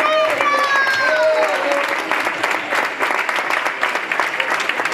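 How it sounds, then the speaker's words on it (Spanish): An audience at a tenth-anniversary magic show bursts into loud, sustained clapping for Pedro, with voices and tonal sounds running over the applause. "fuerte aplauso para Pedro"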